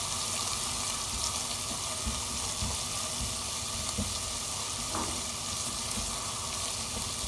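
Mutton sautéing in a pan over medium-high heat for Peshawari namkeen gosht, a steady close sizzle and fry hiss running throughout with faint stirring clinks, and no talking.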